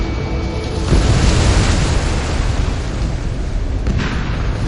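A missile explosion destroying a target in the combat flight game Ace Combat 7, heard as a loud, sustained roaring blast with deep rumble and dense crackling noise filling the whole stretch.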